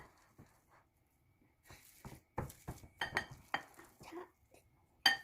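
Perilla-leaf dumpling filling with garlic, green onion, shredded potato, onion and mushroom is mixed in a bowl: sparse, quiet scrapes and pressing sounds with a few sharp utensil clinks against the bowl, irregular and close.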